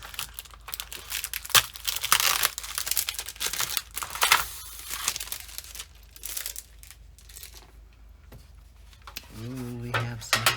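Sticky tape and packaging around a set of colour-blend markers are peeled and crinkled in close, irregular bursts of crackling and tearing, with quieter pauses and a short voice near the end.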